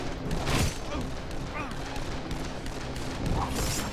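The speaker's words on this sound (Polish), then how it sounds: "Oni do mnie strzelają!" Enemies firing guns in Dead Island: bursts of gunfire crackle through a noisy, echoing fight, with a voice speaking over the shooting.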